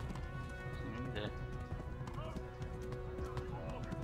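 Horse hooves clip-clop steadily while riding in the medieval video game Kingdom Come: Deliverance, a continuous rhythmic gait under dense game ambience and music, with someone talking over it.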